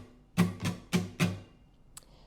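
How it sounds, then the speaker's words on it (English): Four close acoustic guitar strums for the intro of a song, evenly spaced and ringing briefly, then a faint light tap before quiet. "So the strumming pattern for the intro sounds like this."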